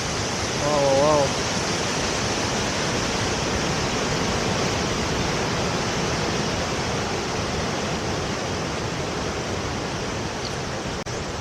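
Ocean surf at Broken Beach on Nusa Penida, Indonesia, rumbles as a steady, dense wash of breaking waves, with a brief voice near the start.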